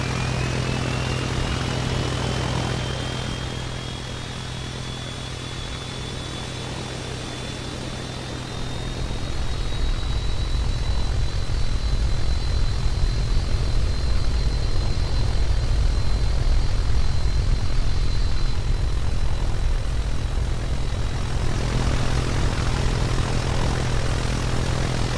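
Airbus A330-900 airliner in the Roblox game Aeronautica, a loud continuous jet engine roar with a thin rising whine that steadies and holds, swelling louder partway through and droning on steadily alone.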